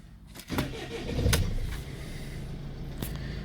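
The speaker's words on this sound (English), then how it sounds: "Now, I'm just going to try the ignition, see if the SRS light is still on." A van's ignition is switched on, giving a click and then a rising electrical whir and hum as the system powers up, close and steady with a couple of faint clicks afterward, no talk.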